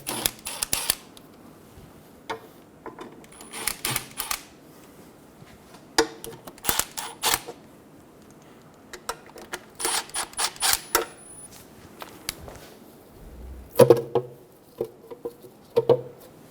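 A hand ratchet loosens the transmission pan bolts under a 2000-2007 Ford Focus. It sounds as scattered bursts of quick clicking with pauses between them, with a few duller knocks of metal near the end.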